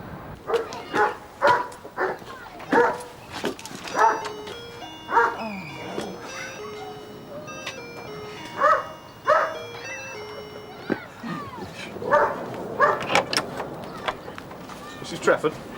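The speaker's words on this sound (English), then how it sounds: "it's next door's dog. It's frightening the life out of me and the kids." A neighbouring dog barks in repeated short bursts with some yelps, heard from close by and mixed with voices and a tinkling melody in the background.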